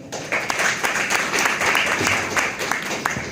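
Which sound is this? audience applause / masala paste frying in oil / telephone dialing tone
audience applause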